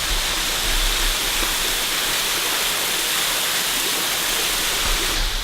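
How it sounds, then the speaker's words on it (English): A waterfall at Macquarie Pass pours in a constant, loud, broadband roar. The rushing water stays even throughout with no voices. "when you have a waterfall like this behind us"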